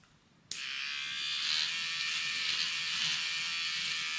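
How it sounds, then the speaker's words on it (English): A pet hair trimmer switches on abruptly and buzzes steadily as it cuts through fabric seam threads, a close, high electric whine that holds constant after the start. "This first item that I have here is a pet hair trimmer, and it is wonderful for removing seams."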